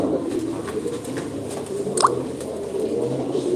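Pigeon cooing, soft and low, under a steady murmur of background noise, with a brief higher chirp partway through; the birds are a keeper's pigeons, including a tail-clipped flying bird.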